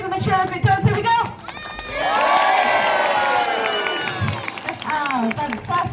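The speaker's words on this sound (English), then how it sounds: "Give him a cheer if it does." An audience at a seal show at West Midlands Safari Park breaks into a loud, sustained cheer with shouting children and some clapping, swelling after a brief lull and lasting several seconds amid scattered voices.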